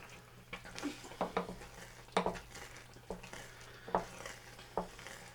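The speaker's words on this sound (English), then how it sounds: "I've been stirring for around about 17 minutes so far" Mushroom risotto stirred in a pan, heard as quiet, close, irregular scrapes and clinks of a spoon against the pan over a low background hum, no talking.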